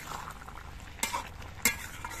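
Stirring powdered neem leaves into vegetables frying in a pan for a Bengali neem shukto dish, with faint sizzling underneath and two sharp scraping clinks of a spatula against the pan.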